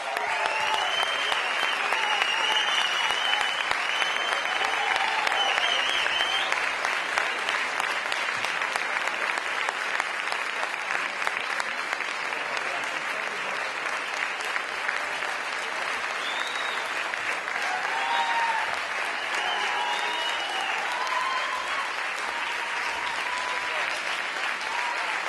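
Long, steady audience applause at an award announcement for a Fandango and Arin-arin choreography contest, dense clapping from a large crowd with a voice announcing over it in places.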